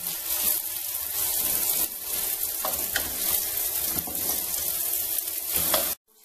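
Onions sizzle in a pan for a spicy pancit canton, a bright, even frying hiss with faint crackles throughout that cuts off abruptly near the end.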